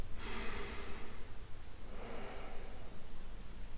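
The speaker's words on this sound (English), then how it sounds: "Take a few breaths." Two slow, audible breaths taken by someone resting in child's pose during a beginner yoga session at home: a longer exhale first, then a shorter one, close and fairly soft against a quiet room.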